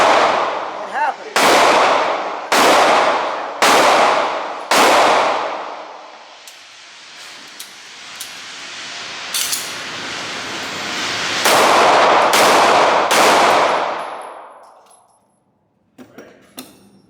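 Repeated gunshots at an outdoor shooting range, a rifle or pistol firing loud, sharp, close cracks in a steady series, with a long ringing echo between two groups of rapid shots.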